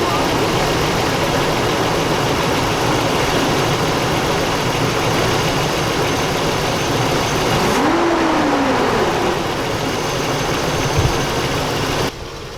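A Chevy Suburban engine with a check engine light on (code P0641) runs steadily at close range, then its pitch rises briefly as the throttle is pressed before it settles back.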